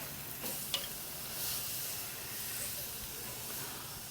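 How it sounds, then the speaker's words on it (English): Steak sizzling on a Weber Performer Platinum grill just after being flipped during a reverse sear, a steady, fairly quiet hiss and crackle with a small pop near the start. "it looks like it's time to flip this steak"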